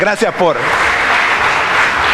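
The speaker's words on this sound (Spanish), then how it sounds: "démosle un aplauso a nuestros hermanos" A church congregation claps for the brothers: someone speaks briefly at the start, then the crowd's applause swells into a loud, even wash of clapping that continues to the end.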